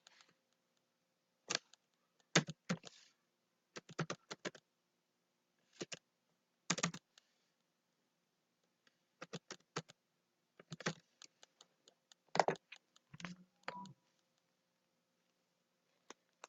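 A computer keyboard is typed on in short bursts of crisp key clicks separated by quiet pauses, close and clear.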